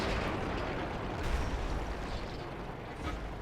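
Heavy tank shell striking a KV-5 heavy tank in World of Tanks, a dense rumbling boom that rolls on through a noisy, explosive battlefield din without a clear single crack.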